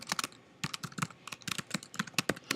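Rapid bursts of computer keyboard typing, crisp clicking keystrokes in quick irregular clusters, close and alone with no talk.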